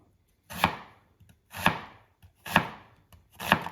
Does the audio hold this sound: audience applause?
no